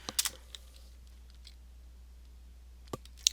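Computer keyboard typing a search query, a few light, faint key clicks clustered at the start and a couple more near the end, in a quiet room.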